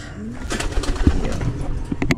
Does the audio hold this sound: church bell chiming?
no